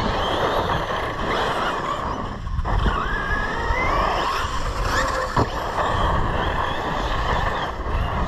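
A Team Corally Kagama 6S RC car drives close by, its motor whining steadily with rising and falling pitch sweeps as the throttle is worked, over constant loud wind and road noise.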